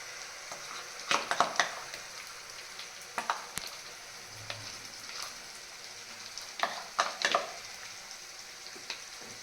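Garlic and a kachri chutney paste sizzle quietly in a hot pan, with occasional sharp clinks and scrapes of stirring breaking through the steady frying hiss.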